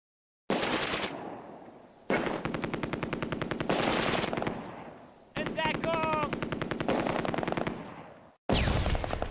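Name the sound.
MG42 machine gun firing in video game Close Combat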